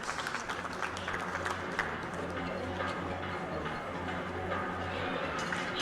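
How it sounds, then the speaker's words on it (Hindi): An audience at an award ceremony in Indore, the Narayani Samman 2023 event, gives sustained, even applause throughout, moderately loud, with low music or a hum beneath it. "डॉक्टर रीना पाटिल जी के लिए जोरदार तालियां।"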